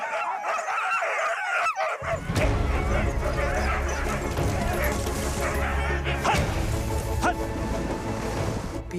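Several sled dogs in Sweden bark and yip excitedly together, eager to run, loud and close, with a steady rushing background and some voices mixed in.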